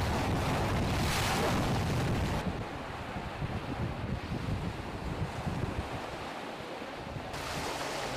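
Waves wash over a small dinghy at the water's edge during launching, a loud, continuous rush of surf heavy with wind buffeting on the microphone, easing slightly in the middle before swelling again.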